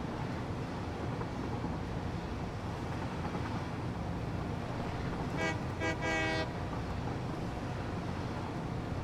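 A train runs along a train line in the Satisfactory factory game, a steady rumbling wash throughout with a few short, bright horn toots clustered midway.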